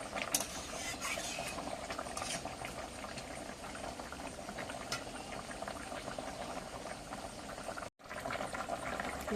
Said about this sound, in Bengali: তরকারিটা ফুটে উঠেছে, মাছগুলো দিয়ে দিয়েছি